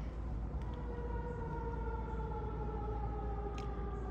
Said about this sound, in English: it was a fire truck siren